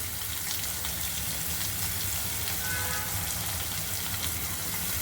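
Onion dropped into hot oil for cabbage sabzi sizzles in a pan, a steady, loud, even hiss with no pause and no talk.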